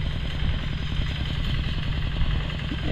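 A diesel engine on a farm machine used for plowing a field runs steadily nearby, a continuous low rumbling chug with rattling clatter and no change in pace.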